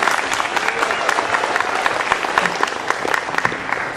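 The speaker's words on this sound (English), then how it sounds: "Would you like to give Mia a great big round of applause?" A room full of people breaks into a great big round of applause for a girl introduced on stage, loud, dense clapping that holds steady throughout with scattered sharper individual claps.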